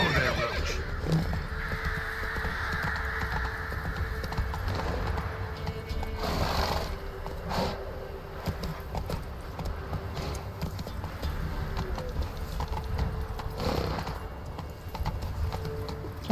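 Roach, a horse in The Witcher 3, whinnies loudly while hooves clip-clop steadily nearby, with game ambience underneath and a few further snorts and hoof falls.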